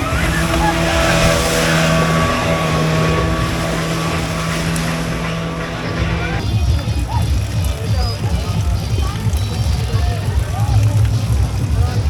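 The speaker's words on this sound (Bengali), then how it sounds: "মূলত এই স্পিড বোর্ড আপনাকে দুই চক্কর দিবে" A speedboat motor drones steadily on a lake at Green Valley Park in Natore, its low engine hum strong at first before shifting to a rougher, churning wash with background crowd murmur.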